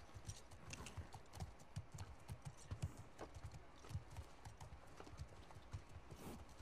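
Horse hooves clip-clop in a steady walking rhythm in The Last of Us Part II, close and clear with faint ambient background.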